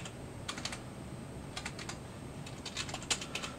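Computer keyboard typing in short clustered bursts of quick key clicks with brief pauses between, close but quiet against a faint steady background hiss, no voices.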